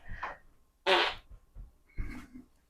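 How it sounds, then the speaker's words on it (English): A man farting up close, a few short raspy blasts with the loudest burst in the middle, in a busy household kitchen with no speech over it. "he just farted right on me"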